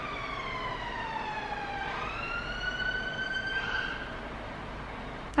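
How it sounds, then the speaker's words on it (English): An emergency vehicle siren wails at a distance, its tone sweeping down and then climbing again, faint against a low background rumble. "And a siren."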